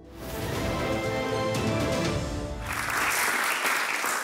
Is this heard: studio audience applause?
yes